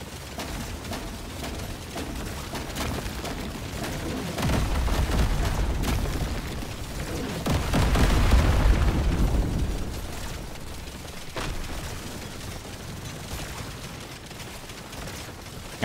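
Rocket launcher explosions from the Deep Rock Galactic: Survivor video game, a dense continuous stream of overlapping booms and bursts that swells and fades, loud and without speech.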